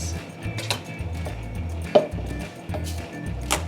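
A knife chops ingredients for homemade nutriberries (seeds, flax, chia) on a board, with uneven close taps and one sharper knock, plus faint clinks of kitchenware.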